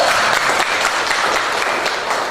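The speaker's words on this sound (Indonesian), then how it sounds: "Oke, tepuk tangan untuk Ayu." Dense applause from a class of students fills a primary school classroom as they clap for a classmate. Many overlapping claps make a continuous, fairly loud wash with no speech.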